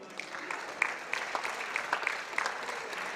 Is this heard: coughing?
no